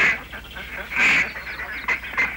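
A flock of many ducks on a duck-breeding farm quacks and honks continuously in a nasal, overlapping chorus, loud and close throughout.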